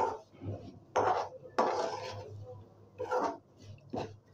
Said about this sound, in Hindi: इसे स्लो आंच पे ही भूनना है ताकि अच्छी तरीके से ये भुन जाए।